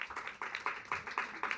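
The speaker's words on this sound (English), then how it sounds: "give him a round of applause." Audience applause at a San Francisco forum on Black economic dignity, with a few spaced, loud claps standing out against a thin, scattered background of hand claps.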